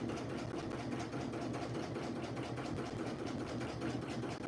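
A sewing machine stitches a tee shirt in a steady, continuous mechanical hum, moderately quiet and close, with no speech.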